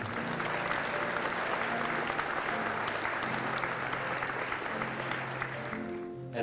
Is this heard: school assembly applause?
yes